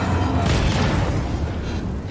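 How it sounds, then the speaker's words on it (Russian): Explosions in the video game Star Wars Jedi: Fallen Order make a deep, rumbling boom that swells and then fades over a couple of seconds, loud and up front. "Взрывы."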